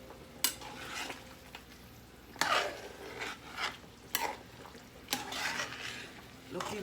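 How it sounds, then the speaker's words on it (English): A spoon stirs ground pimento seeds into a pot of Jamaican brown stew chicken, giving a few distinct scraping clanks against the pot with soft swishing strokes in between, close and moderately quiet, with no talking. "let's give this a stir"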